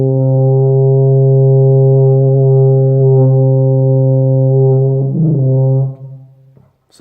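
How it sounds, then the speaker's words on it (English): A wind instrument holds a loud, buzzy sustained tone with rich harmonics while the player learns circular breathing, wavering and distorting near the end before cutting off, followed by a brief breathy noise. "your tone is going to drastically change as soon as you cut off the back of your throat and fill your cheeks up with air"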